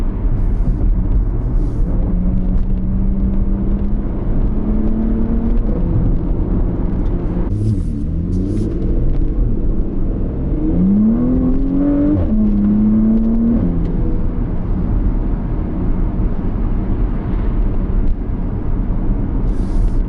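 Steady engine drone from inside a moving Porsche Panamera, with pitch rising and falling as it shifts and accelerates, loud and continuous throughout.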